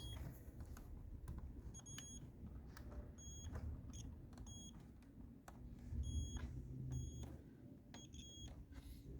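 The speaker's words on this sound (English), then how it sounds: "So we'll turn our multimeter to the noisy one, and it'll beep when we've got a connection" A multimeter's continuity tester gives short high-pitched electronic beeps in a quick irregular series, some doubled, fairly faint over low rumbling background noise, while testing fuses on a Land Rover Discovery TD5.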